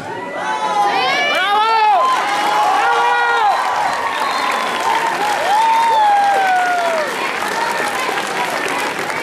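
A crowd at a male cosplay contest at Expo Comic Ichiban 2011 claps steadily for a contestant, with whoops and shouted cheers rising over the sustained applause.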